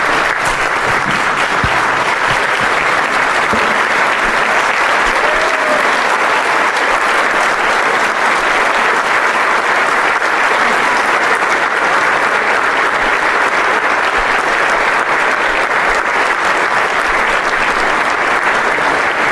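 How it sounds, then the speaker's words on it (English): An audience at an awards dinner applauds continuously, a loud, dense wash of many hands clapping that holds steady throughout, with no one speaking over it. "I'd like you all to join me in one more round of applause for Susie Wiles."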